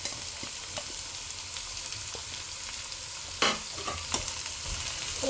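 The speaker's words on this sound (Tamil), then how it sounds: "வெங்காயத்தை போட்டு வதக்குவோம்." Onions sauté in a pan with mint and coriander for chicken biryani, an even close sizzle with scattered light stirring scrapes and a sharper clatter midway, no talk.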